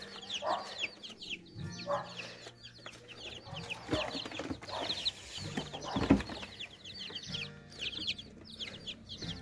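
Many young chicks peep in high, rapid chirps outdoors as they are let out in the morning sun, mixed with hens clucking and occasional lower farmyard noises nearby.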